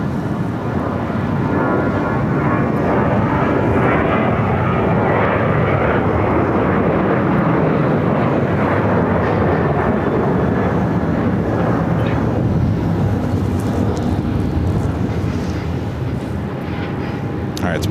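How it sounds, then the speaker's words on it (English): A Delta Airbus A330 lands on runway 8 at Phoenix, its engines a loud, sustained broadband roar that stays steady, then eases slightly toward the end. "that A330 with Delta. So I'll just land on runway 8."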